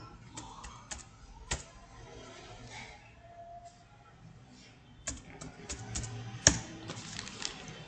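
Someone types on a computer keyboard, producing soft, irregular keystroke clicks in short clusters with pauses between them, fairly quiet and close.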